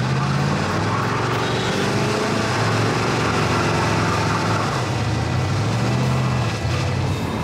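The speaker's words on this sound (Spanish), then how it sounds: "El motor suena excelente." A 1978 Pontiac Trans Am's engine runs steadily and fairly loud throughout, a continuous low rumble with slowly shifting tones and no talk over it.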